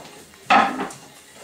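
Chopped celery tipped into a bowl for a tropical chicken salad, a single clattering drop of pieces against the dish, brief and close, fading into quiet kitchen background.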